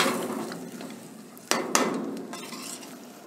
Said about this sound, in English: we'll add finely chopped tomatoes. Mix it well